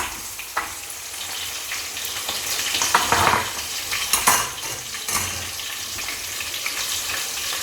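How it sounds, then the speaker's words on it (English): Ofada stew stirred in a pot, a steady sizzle with a few scraping spoon strokes and one brief louder burst of frying near the middle, no talking. "Stir it for a minute."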